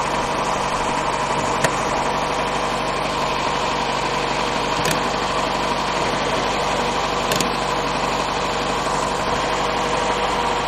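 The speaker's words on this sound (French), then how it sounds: "Alors comme elle avait plus de batterie, on en profite pour la laisser tourner. Hein. Le ralenti me paraît haut" A car engine idling at a high idle, a steady, even drone that stays close and loud throughout, with a few faint clicks over the continuous hum.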